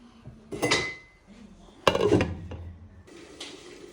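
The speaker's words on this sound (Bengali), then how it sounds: "এখন আস্তে আস্তে হোক ঢাকনা দিয়ে ডেকে রাখি দেবো" A lid is set onto a cooking pan in a home kitchen, giving two distinct metallic clanks about a second apart with a short rattle after each, close and fairly loud against quiet room sound.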